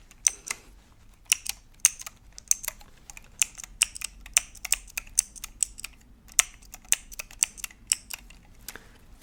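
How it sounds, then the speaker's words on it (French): Small mechanical keyboard-key toys attached to a card being pressed, crisp plastic clicks close to the microphone in an irregular typing-like rhythm, sometimes in quick pairs, against a quiet background. "C'est des petits jouets mécaniques qui imitent les touches."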